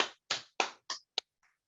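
At a conference plenary session, about six sharp, dry claps ring out, evenly spaced and isolated, with the last ones growing fainter and no talk between them.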